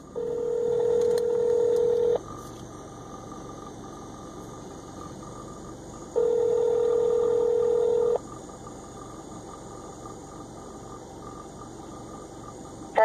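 Telephone tones sound while a call to the Framingham, Massachusetts police department is being transferred, two steady electronic beeps, each about two seconds long, separated by a quiet, hissing line.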